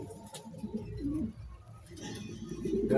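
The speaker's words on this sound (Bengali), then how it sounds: "দুটোটা আপনার জাম্পায়ের কবুতর দেখছেন" Pigeons of a jumping breed coo softly nearby with low, rolling, throaty calls rising and falling over a quiet background.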